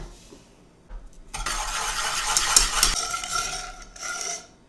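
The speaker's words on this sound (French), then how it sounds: "on va mélanger le jaune avec le sucre" Rapid whisking of egg yolk with sugar scrapes and taps against a bowl or pan, continuous and fairly close, rising in intensity then easing off.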